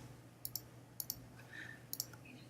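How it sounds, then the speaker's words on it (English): Mouse clicks while using the shape tool in a drawing program, several crisp close clicks in quick pairs, spaced across a quiet background. "And I click and drag the shape tool."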